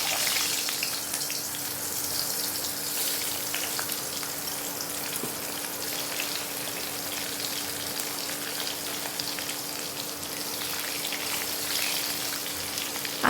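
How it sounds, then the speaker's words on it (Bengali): Potatoes fry in oil in a wok, making a constant, moderately loud crackling sizzle with fine popping over a faint steady hum. The sound holds evenly throughout, with no talk. "এবার কড়াইতে তেল দিয়ে দিয়েছি। এবার আমি প্রথমে আলুটা ভেজে তুলে নেব।"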